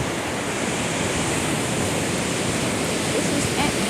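A small river of water flows toward a beach in Gambia, giving a steady, broad rushing wash that stays loud and unbroken throughout, with no voices.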